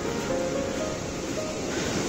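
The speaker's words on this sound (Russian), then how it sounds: "Смотрите, какое бушующее море." Rough, stormy sea waves on a Spanish coast roar as a steady, dense wash of surf, continuous and fairly loud with no voices.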